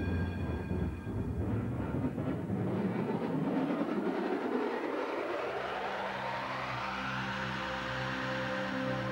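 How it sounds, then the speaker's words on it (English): A Melbourne tram on Swanston Street runs past with rolling rumble and a rising whine that climbs steadily as it moves, moderately loud and nearby with no talk. "I can see a tram flying up Swanson Street."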